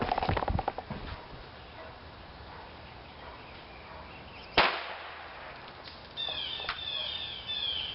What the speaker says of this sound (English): And there you have it, the firecracker rocket.